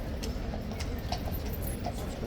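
Horse hooves clip-clopping at Horse Guards, a few light knocks spaced irregularly over steady outdoor background noise, fairly faint and not close.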